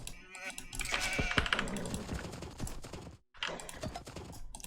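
Sheep bleat in Age of Empires II, a couple of short nasal calls among dense game sound effects and clicking, moderately loud, with no speech over them.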